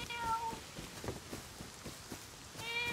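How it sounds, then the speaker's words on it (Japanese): A cat in the survival game Rust meows at the start and again at the end, clear mid-distance cries over a soft background of light tapping steps. "あー猫だ猫だ"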